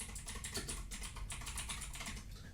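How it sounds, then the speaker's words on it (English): Computer keyboard typing that sounds like a typewriter: a dense, rapid, continuous patter of key clicks at an even pace, faint and fairly close. "It's like he's using like a typewriter."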